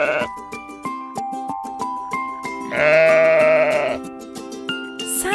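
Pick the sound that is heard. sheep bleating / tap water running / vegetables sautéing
sheep bleating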